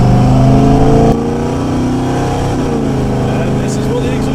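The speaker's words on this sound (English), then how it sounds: "This is what the exhaust sounds like." A Chevrolet Chevelle SS 454 big-block engine rumbles loudly with a deep, throaty exhaust, revving hard at first and then settling into a steady, lumpy idle.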